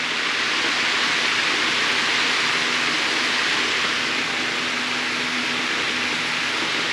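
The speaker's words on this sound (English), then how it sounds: "Make sure I'm watering every plant evenly" Hose water sprays steadily onto hanging basket plants in a growing space, a loud, continuous rushing hiss with no pauses for the full stretch.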